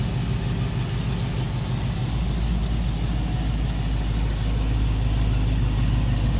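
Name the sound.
Cadillac CTS-V engine idling in park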